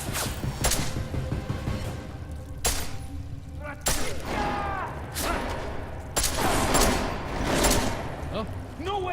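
Gunfire in the video game Deus Ex: Mankind Divided, with several sharp, loud shots and bursts, some with ringing metallic tails, set against dense game noise and mixed with voices talking.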